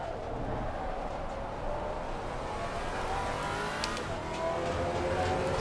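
A Maserati GT4 race car in Assetto Corsa Competizione, racing at Donington, drones steadily under load, its engine note rising and falling through gear changes with a faint tyre squeal, continuous and close.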